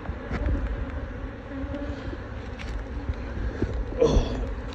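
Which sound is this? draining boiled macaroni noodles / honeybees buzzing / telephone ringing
honeybees buzzing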